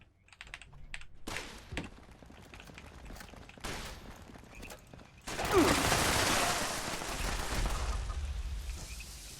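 Turret gunfire in Fallout 76 erupts midway as a dense, loud fusillade of rapid shots that keeps going to the end, preceded by scattered clicks, thumps and isolated bangs.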